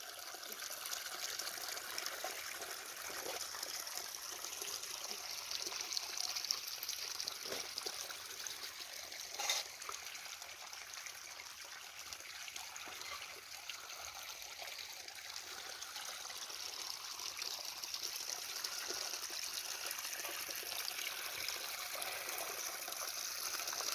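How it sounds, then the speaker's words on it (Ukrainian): Water runs fast and steadily through a limestone ravine in the Podillia Tovtry near Satanov, a continuous trickling and splashing rush heard alone, fairly faint, for the whole stretch. "Тече вода, тече бистро"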